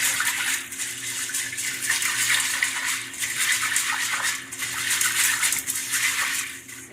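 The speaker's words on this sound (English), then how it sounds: "you want to wash your beans until your water is not dirty" Water sloshing and splashing as dry beans are rinsed and swirled by hand in a bowl, a continuous wet churning with occasional light clinks.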